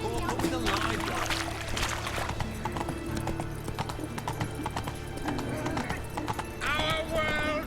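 Hooves of Roach, Geralt's horse in the video game The Witcher 3, clip-clop steadily at a gallop throughout, with game speech and ambient sound around it and a short whinny near the end.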